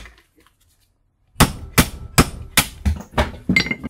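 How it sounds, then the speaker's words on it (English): Hammer pounding metal parts loose while scrapping: after a second of silence, about eight sharp, loud metallic blows land in a steady rhythm, close by. "I'll just pound these down."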